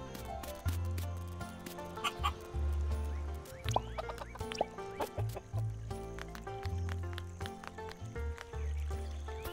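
Chickens in the farming video game Dinkum cluck in repeated short bursts over a continuous low game soundscape, with scattered chimes and interface tones.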